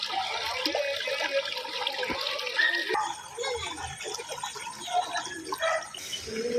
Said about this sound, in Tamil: கோட்டூர் கோணத்திலிருந்து சாஸ்தா கோயிலுக்கு செல்லும் சாலையில் வெள்ளம் பெருக்கெடுத்து ஓடுகிறது